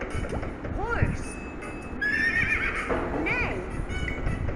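Two loud whinnies from a horse ring out one after another, each a shaky, wavering neigh, with faint hoofbeats and low rumbling noise underneath.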